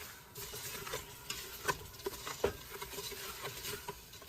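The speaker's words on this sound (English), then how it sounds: "we're just gonna let this melt for a couple of minutes and stir everything up" Quiet stirring of corn syrup melting in a pot with sugar for cornflake bars, soft scraping and light patter with a faint sizzle, with a few small clicks of the spoon against the pot.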